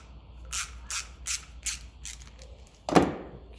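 Ratchet wrench tightening a fitting during restoration of a 1957 Ferguson 35 TVO tractor: five or six short, crisp clicking strokes at a steady pace, close and fairly quiet, followed by one louder scraping rattle.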